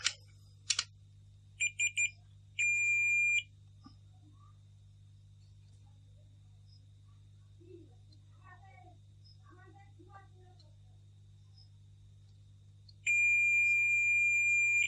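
A multimeter on continuity mode beeps while probing a shorted CA20 amplifier circuit: a few quick chirps, then a sustained beep, and later another long steady tone. A low hum runs underneath, and someone speaks quietly between the beeps.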